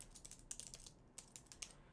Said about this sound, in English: I'll just see if I can quickly type here with the keyboard